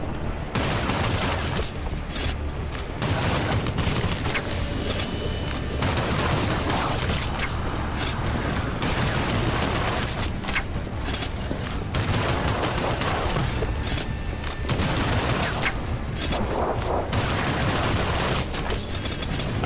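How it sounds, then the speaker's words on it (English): Rapid, continuous gunfire fills the scene in the VR game Hellsweeper VR, with loud dense bursts and booms sustained nearly throughout and a few brief gaps, no one talking. "I'm just shooting up until my magazines runs out"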